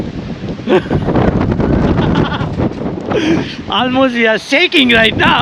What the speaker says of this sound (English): The wind is too much over here.